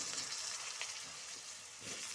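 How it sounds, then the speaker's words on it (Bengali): Potatoes frying in hot oil over a tempering of dried red chili and whole cumin, a steady close sizzle with bright crackle throughout and a slightly louder burst near the end. "আলুগুলো হালকা করে একটু ভেজে নেব"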